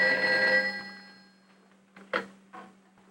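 A 1961 telephone bell rings once in a long metallic burst with a steady hum beneath, then decays into quiet room noise with a couple of faint clicks and knocks.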